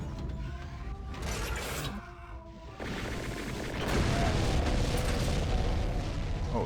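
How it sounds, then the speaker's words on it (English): Several heavy explosions boom in the video game Eternal Doom, dense and loud with rumbling mechanical noise between bursts, continuous throughout with no talk. "Multiple explosions."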